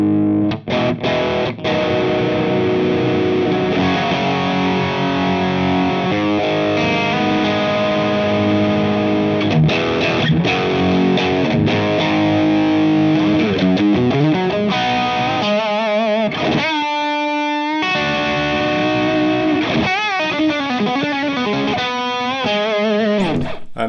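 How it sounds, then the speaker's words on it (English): Electric guitar played through a Fender Hammertone Overdrive pedal, driven chords and riffs ringing out loud and continuous, with sustained distorted notes and a brief choppy, stuttering passage near the end; no talking. "So this is obviously how much drive we're getting from the pedal."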